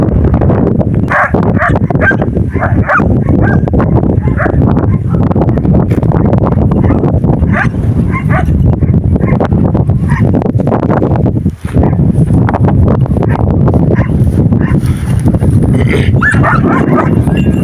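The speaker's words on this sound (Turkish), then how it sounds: "Arkadaşlar burada bu siyah köpeğin yavruları var." Several puppies of a black dog yip, whimper and bark in a continuous, busy chorus close by, with high squeaky cries over lower barks.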